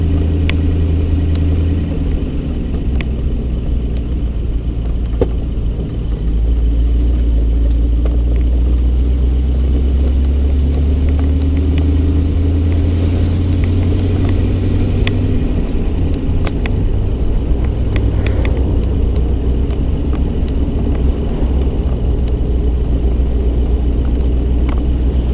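A 1932 Packard 903 convertible coupe on the move, its engine giving a steady low rumble with road noise throughout, close and continuous with no talking.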